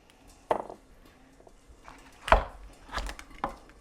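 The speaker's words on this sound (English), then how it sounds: "kind of chop it up into pieces" A knife chopping cooked tandoori chicken into pieces on a board: four separate thuds spread over a few seconds, close and fairly sharp, with no talking.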